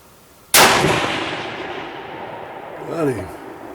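One loud, sharp gunshot from a hunting gun fired outdoors rings out and decays into a long echoing tail, followed by faint, brief vocal sounds near the end.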